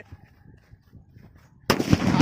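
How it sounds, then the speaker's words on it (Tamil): Quiet rustling background, then a sudden loud firecracker blast near the end, with a sharp crack and a crackling roar that continues. "இப்போ சின்ன அணுகுண்டு ஸ்டார்ட் பண்ணி பார்ப்போம் எப்படி இருக்குன்னு"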